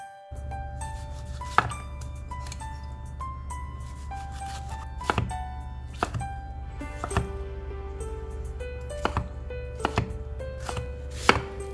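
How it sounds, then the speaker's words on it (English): A knife cuts slices of tomato on a board: a steady series of crisp, separate chopping knocks at a moderate pace, close by, over soft tonal music. "Cut 2 slices of tomato."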